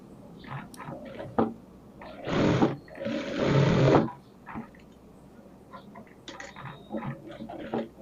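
A sewing machine stitches a dart on a blouse in two short whirring bursts in the middle, surrounded by quieter handling noises and light clatter.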